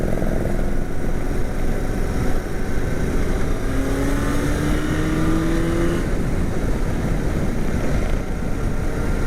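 A sport touring motorcycle being ridden gives a loud, steady engine drone with wind rush, the pitch climbing gently midway as it pulls harder, with no talking.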